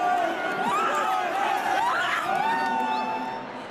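A large crowd spills onto the pitch at Croke Park after the 2006 All-Ireland senior hurling final between Kilkenny and Cork, a steady distant roar of cheering and chatter with someone speaking over it.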